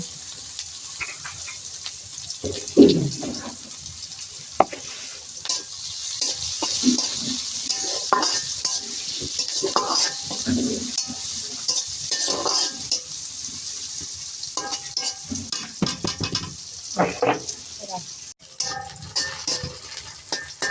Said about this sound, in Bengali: কাঁচা জিরা দুইটা গরম দুইটা শুকনা মরিচ একটা তেজপাতা ফোড়নে দিয়ে দিলাম